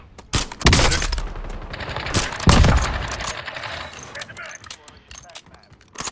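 Rapid gunfire bursts from the Call of Duty Warzone video game on Rebirth Island, crackling shots with rattling clatter over several seconds, louder near the start and around the middle, with people talking over it.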